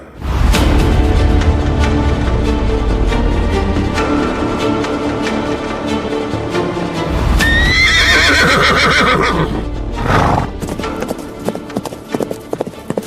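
A horse gallops along a forest path to a battlefield, hooves clip-clopping steadily, with a loud whinny partway through. Music and sound effects lie over it, and the whole mix is dense and loud.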